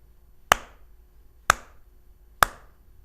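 Three sharp single hand claps, one hand striking the other, spaced about a second apart, each crisp and close, with silence in between.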